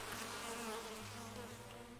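Bees at an apiary in the colony-building game Farthest Frontier, a soft continuous humming buzz that stays even and unbroken across the short stretch, with no voices.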